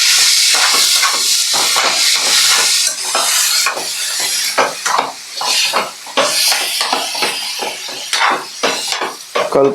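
Marinated chicken with tomato, onion and chili sizzles loudly in a pan, cooked without oil, under a steady hiss broken by repeated scraping stirs and clinks, close up and with no talking.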